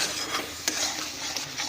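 A spoon stirs tomato paste and masala in a pan while cooking a jackfruit curry, with soft scraping and light sizzling plus a few sharper clinks of utensil against the pot, close and fairly quiet.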